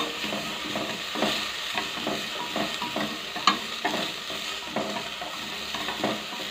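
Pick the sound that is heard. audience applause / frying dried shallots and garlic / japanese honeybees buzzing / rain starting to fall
frying dried shallots and garlic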